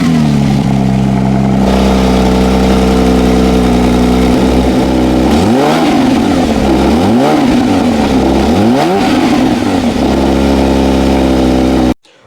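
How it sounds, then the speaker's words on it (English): A Porsche 911 GT3 with a 4-liter straight six and dual centre-exit exhaust idles loudly up close, then gives three quick rising-and-falling revs before settling back to idle and cutting off. "you've got the dual exit center mounted exhaust. And those two exhaust tips look so cool in this car, and they sound pretty amazing."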